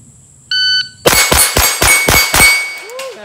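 Rapid string of gunshots ringing off steel plates on a plate rack during a steel challenge shooting stage, about six sharp metallic clangs in quick succession, loud and close, preceded by a brief start beep.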